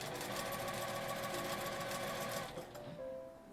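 A sewing machine stitches Seria popcorn-textured cut cloth for a scrunchie, with a steady, quiet mechanical whirr for about two and a half seconds before slowing and stopping.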